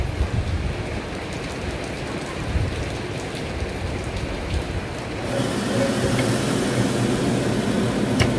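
Rain pours down steadily in a dense, even hiss of drops on surfaces, swelling slightly heavier partway through, with no voices.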